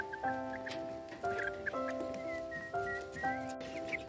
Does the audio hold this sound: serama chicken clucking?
yes